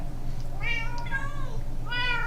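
A Minecraft cat meows three times, clear drawn-out mews with a gap between each, over a low steady background hum.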